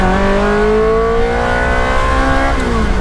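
A 2002 Ferrari 360 Spyder with a gated manual pulls hard in first gear, its engine note climbing steadily in pitch, loud and close, with a brief drop near the end as the revs ease.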